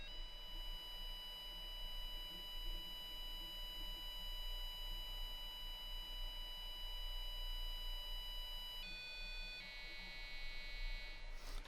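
A steady electronic tone from a micro:bit electro-theremin rings on without a break, then shifts pitch in steps near the end as a dial is turned, close and alone.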